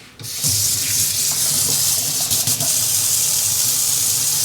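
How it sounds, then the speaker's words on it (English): A tablespoon is rinsed under a running kitchen tap while cooking mapo tofu. After a brief start, steady water runs continuously and close by in a sink, alone without talk. "I am actually going to need to rinse this tablespoon"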